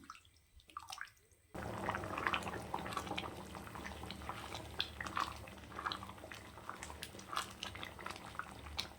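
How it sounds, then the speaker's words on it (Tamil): Water with rice and mixed vegetables comes to a rolling boil in a pot, giving a steady, close bubbling and popping that continues throughout after a brief quieter start. "நல்லா கொதி வரட்டும்."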